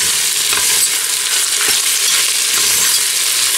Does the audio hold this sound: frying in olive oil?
yes